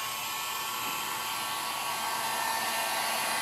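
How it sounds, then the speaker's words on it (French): A heat gun blows steadily on greenhouse plastic sheeting, giving a continuous, even, hissing whir like a very strong hair dryer, heard close and alone for a few seconds. "puis je les chauffe avec le heat gun,"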